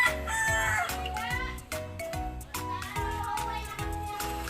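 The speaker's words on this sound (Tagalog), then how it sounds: "So pasensya na sa ingay ng manok." A rooster crows loudly and close by in a long cock-a-doodle-doo, with rhythmic background music thumping underneath.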